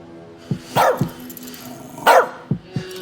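A dog barks in the video game As Dusk Falls, sharp bursts with two louder yelping barks among several shorter ones, close and clear against quiet.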